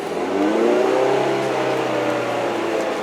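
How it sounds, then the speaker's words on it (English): A Mazda MX-5 Miata's engine hums steadily while driving, a smooth, continuous drone with a slight rise in pitch, heard from inside the open-top car with road noise underneath. "you can also hear that great engine"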